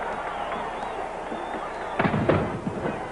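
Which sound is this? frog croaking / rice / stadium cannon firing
stadium cannon firing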